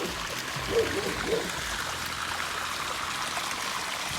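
Water gushing full-bore from the outlet pipe of a 1500 W solar-powered groundwater pump on a farm, a steady rushing hiss that holds even throughout, with no talk over it.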